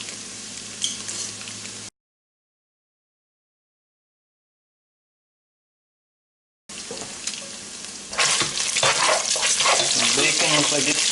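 Floured meat pieces being stirred in a frying pan alongside bacon, a steady crackling sizzle that cuts out for several seconds, then returns louder and denser with scraping stir noises.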